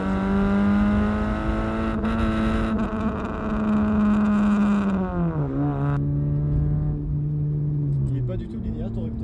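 A Hyundai Coupé engine holds a high steady rev near its limiter, a loud close drone that wavers and drops in pitch, then settles lower and fades slightly, with speech faintly underneath.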